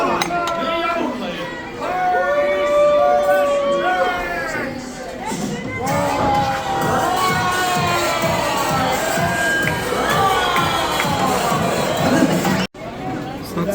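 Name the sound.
rodeo show crowd cheering and applauding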